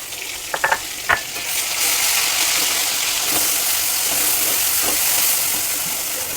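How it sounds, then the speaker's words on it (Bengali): A ground spice paste hits hot oil left from frying fish, bursting into a sustained loud hiss and sizzle after a few sharp utensil knocks. "ওই তেলেতেই আমি দিয়ে দেব মশলাগুলো, যে আমি বেটে রেখেছিলাম মশলাগুলো।"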